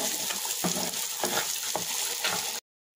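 Spice tempering frying in mustard oil, a dense close sizzle with a few stirring scrapes, cutting off abruptly into silence before the end.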